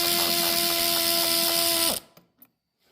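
A socket wrench or power tool spins a bolt out of a Smart car front end, a steady loud whirring mechanical drone for about two seconds that cuts off abruptly, followed by a few faint clicks and handling noises.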